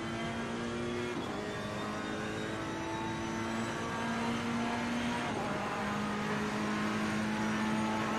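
Race cars in an endurance race heard from onboard, a steady engine drone with tonal lines that shift as the car changes gears, loud and continuous throughout with no talk.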